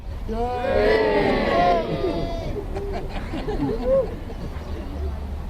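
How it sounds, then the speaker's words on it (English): A tour group at the Tower of London lets out a loud, hearty shout together, a single swelling cheer of many voices that fades into outdoor crowd murmur. "A mighty cheer."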